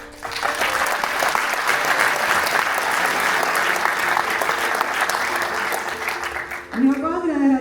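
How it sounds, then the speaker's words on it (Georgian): Loud, sustained applause from an audience in a hall at a government closing event in Palermo, a thick continuous roar of clapping that fades near the end as a voice comes in. "დარბაზის მხუხარე აპლოდისმენტები და ცრემლები არაერთხელ დაიმსახურა"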